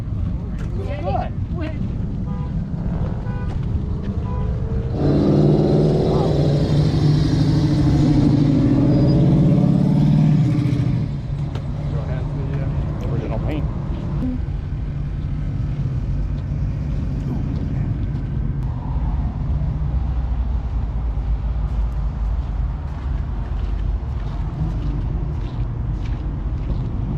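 An LS V8-swapped Mazda RX-8 at a drag strip car event, its engine rumbling loudly for several seconds with a burst of revving, then dropping to a lower idle under wind noise and people talking.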